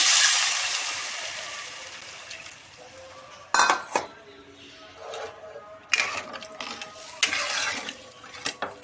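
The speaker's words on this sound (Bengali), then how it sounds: "আমি এবার ঢাকা দিয়ে দিচ্ছি" A lid is set on a cooking pot of rohu fish curry with taro, making several sharp metallic clanks and scrapes close by, separated by quieter stretches.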